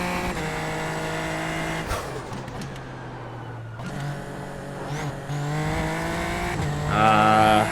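Super Formula Lights race car lapping Imola in the iRacing game, engine revving hard through gear changes with a steady high whine, rising again at the end.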